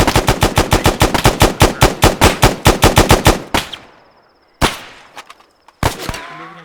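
AI soldiers fire weapons in the military game Arma 3: a loud, rapid automatic burst of about twenty shots, then a few isolated single shots with short echoing tails, without talk.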